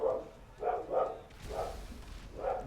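A dog barks several times in a quick, uneven series, somewhat distant and muffled, with quiet background noise between barks.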